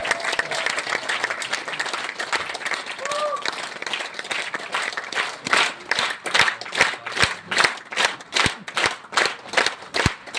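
An audience at an RCM gathering in Bhavnagar applauds to welcome a speaker, starting with dense, scattered clapping that settles into loud, rhythmic unison claps, with a brief voice heard early on.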